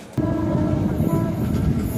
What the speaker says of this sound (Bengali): ট্রেনে চড়ে যাব বন্ধুরা।